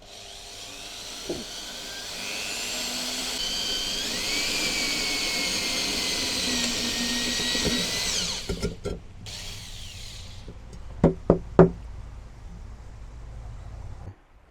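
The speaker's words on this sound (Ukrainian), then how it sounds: "Знайшов я отакий кусочок металу двойка. І зараз спробуємо посвердлити." A Vitals cordless drill-driver bores into a piece of 2 mm steel with a sustained whining drive for several seconds, then stops, followed by a few sharp metallic clicks and knocks nearby.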